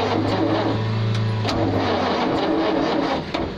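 An abandoned Green Goddess fire engine cranking and trying to start, a loud steady droning grind from the starter with a brief change in tone midway and no catch into running.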